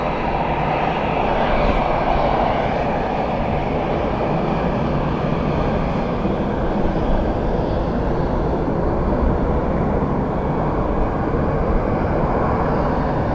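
A Jet2 airliner taxis at Dublin Airport, its engines giving off a steady broad roar and whine that holds at an even, moderately loud level, with no speech heard.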